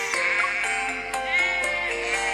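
Sheep bleating in a steady, close, loud run of calls with no talk over it, heard in a valley setting outside a city.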